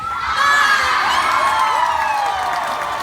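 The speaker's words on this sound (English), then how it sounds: "if she gets it, you gotta cheer real big and loud for her" Audience at a sea lion show at Kentucky Kingdom cheers and shouts, with children's voices prominent, the roar swelling loud after a brief start and holding steady.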